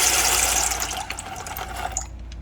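Dry Velveeta macaroni noodles poured from a box into a stainless steel pot of water in a home kitchen, a steady close rushing patter for about two seconds that then stops.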